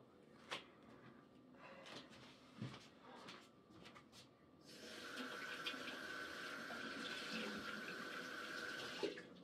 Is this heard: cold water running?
yes